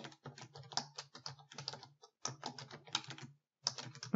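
Rapid, irregular clatter of keystrokes on a computer keyboard, entering data into an Excel spreadsheet, close and clear in bursts with short pauses between runs of typing.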